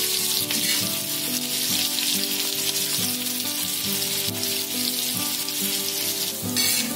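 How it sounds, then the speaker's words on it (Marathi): Onion roasting on a hot griddle pan, giving a continuous loud sizzle with a steady crackling hiss throughout and no voices. "कांदा आता हा लालसर थोडा भाजून घ्यायचा, भाजत आलेला आहे"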